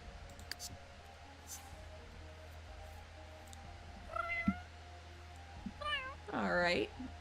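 A cat meows in The Sims 3 during cat creation, giving a few short, fairly close meows in the last seconds over a quiet background with faint clicks.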